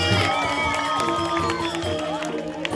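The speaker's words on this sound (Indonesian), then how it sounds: "Tepuk tangan dong ngajingnya." Crowd at a Balinese Calonarang performance with comic pengibing dancers cheers and shouts amid scattered clapping, with gamelan-like tones and voices mixed in throughout.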